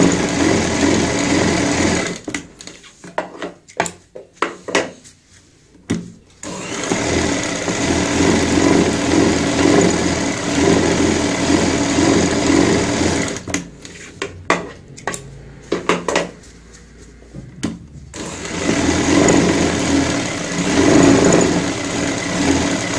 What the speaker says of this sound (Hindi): अब हम यहाँ पे इस तरीके से सिलाई लगाएंगे।